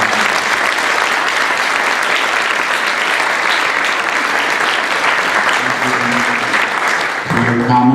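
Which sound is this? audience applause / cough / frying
audience applause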